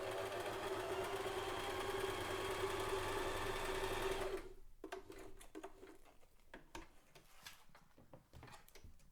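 Sewing machine stitching a corded seam, a close steady whirring hum for about four seconds, then stops, followed by scattered light clicks and handling noises.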